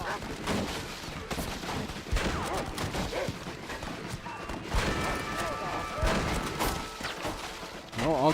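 Gunfire rings out during a Western shootout in the video game Red Dead Redemption, with repeated sharp shots and booming reports mixed with game music and voices talking over the action.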